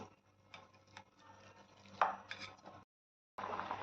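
Boiled potatoes being crushed in a pot, a few soft thuds and scraping knocks at irregular intervals, close and fairly quiet, with one sharper hit midway and a brief silent gap near the end.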